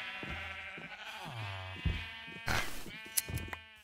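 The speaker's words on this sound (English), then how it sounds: "I think we need more sheep." Sheep bleating in the Minecraft video game: several wavering, nasal bleats in succession, clear and close, with no talking over them.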